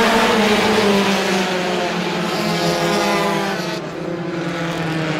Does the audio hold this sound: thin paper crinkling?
no